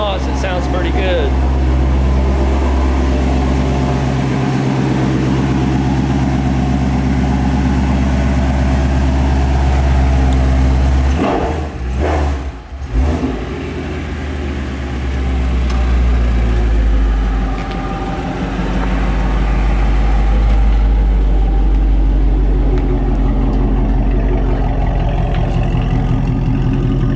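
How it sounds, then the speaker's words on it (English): A Ford Mustang GT350 idling and revving with its exhaust opened up, a deep continuous rumble close by with a brief dip in the middle before the throaty drone builds back up. "now that he opened up the exhaust, it sounds pretty good"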